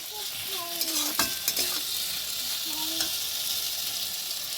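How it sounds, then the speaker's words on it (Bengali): Potatoes fry in a pan with a soft steady sizzle while a utensil stirs and scrapes them in a few brief clinks, close by and fairly quiet. "আর এখানে করেছি আলু ভাজা"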